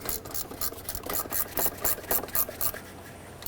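Starter mounting bolt threaded into a throttle-body bracket on a 2007-2010 Chrysler Sebring, a close, quiet series of short rasping metal scrapes in an uneven rhythm.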